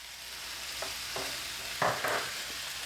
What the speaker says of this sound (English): Now I'm getting my beef back in, all this beef. Give it a mix.